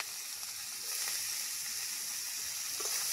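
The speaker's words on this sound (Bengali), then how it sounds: "এই যে তেল গরম হয়ে গেছে, এবার আমি ফোড়নে সব দিয়ে দিচ্ছি। লং আর দারচিনি" Cloves and cinnamon dropped into hot oil for tempering, making a bright, steady hiss that grows slightly louder after the first second and stays close and even.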